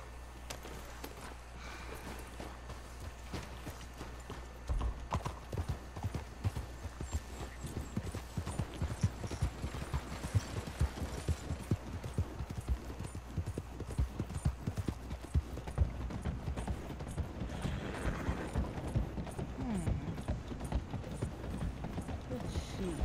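Horse hooves clip-clop steadily in Red Dead Redemption 2, a continuous rhythmic trot that runs close and fairly loud over a low rumbling game background, with faint mechanical clicks now and then.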